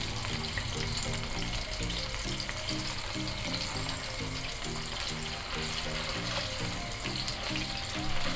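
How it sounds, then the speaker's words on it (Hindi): Beef galawati kababs fry steadily over medium heat in a pan, giving a dense, continuous sizzle that stays close and even throughout. "मीडियम आंच पे आपने इनको फ्राई करना है।"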